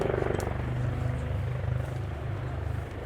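Steady rotor thrum of two Royal Navy Wildcat HMA.2 helicopters flying overhead at an air show display, a low rhythmic chop that stays fairly constant and moderately loud.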